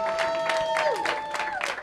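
A live talk show audience claps in uneven bursts while a host's voice carries over the top, the applause moderately loud and close.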